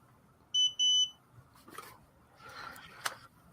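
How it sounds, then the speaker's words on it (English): A beeping alarm, likely a smoke detector, gives two close, loud electronic beeps, each about a quarter-second long, followed by quiet indoor room noise. "we have this beeping going on"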